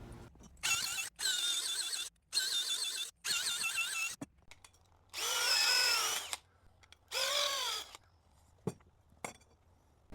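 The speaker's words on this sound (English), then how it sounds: "I will cut a 20-inch segment" Pipe being cut into a 20-inch segment with a power tool while building a modern side table, in four or five loud, screeching bursts of a few seconds each, separated by short pauses and small clicks, with no talking.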